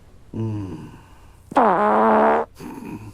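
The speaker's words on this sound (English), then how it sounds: "It was the royal fart." Two comic fart noises from a royal figure, a shorter low one followed by a longer, louder, buzzy blast, then a brief rumble at the end; no talking.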